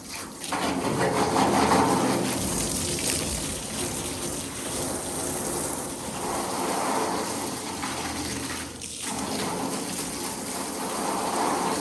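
Water from a hose running into a tub for rinsing, a continuous close splashing rush with brief dips and surges in loudness, heard alone.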